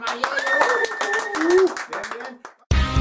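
A small studio group on a rock radio show claps in quick, close bursts for a couple of seconds while a voice speaks over it, then the clapping stops abruptly before music cuts in.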